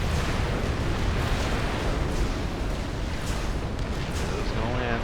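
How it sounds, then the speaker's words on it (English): Tactical missile fire in the Supreme Commander strategy game makes a dense, continuous rumble of distant blasts and bursts, with battle noise filling the whole stretch at an even level. "We got some tactical missiles."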